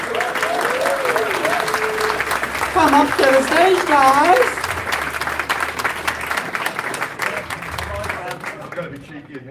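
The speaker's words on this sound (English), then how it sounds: "So a big round of applause for our panel" A convention audience claps continuously and fairly loudly for several seconds for a panel of musicians, with a person calling out over the applause.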